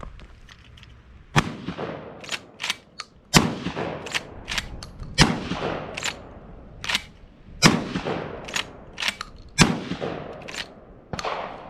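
A Black Aces Tactical 12 gauge lever-action shotgun fires outdoors, about eleven sharp, loud blasts in quick irregular succession, each booming shot followed by a short fading tail into the open distance.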